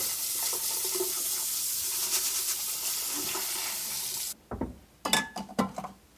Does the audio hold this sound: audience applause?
no